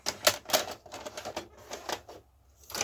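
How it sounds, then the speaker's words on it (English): A VHS tape is pushed into a 1994 RCA VR-674HF hi-fi VCR, giving a short run of close plastic clicks, clacks and mechanical rattles before a brief quiet, then one last click. "let's try popping a tape in"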